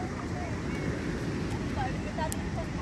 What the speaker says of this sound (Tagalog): dinig dinig mo yung lagaslas at paspas ng alon sa dalampasigan